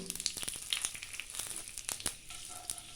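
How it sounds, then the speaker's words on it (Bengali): Radhuni seeds and bay leaves crackling and sizzling as they temper in hot mustard oil, a close, steady fry with sharp little pops scattered throughout. "তেল গরম হলে এরপরে রাঁধুনি ও তেজপাতা ফোড়ন দিচ্ছি"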